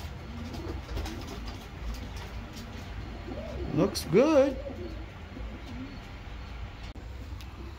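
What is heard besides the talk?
racing pigeon cooing in loft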